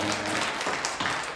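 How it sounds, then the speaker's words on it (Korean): A church congregation at a Sunday worship service bursts into dense, steady applause for a newly registered member, a broad wash of clapping filling the room for a moment. "주님께 영광의 박수"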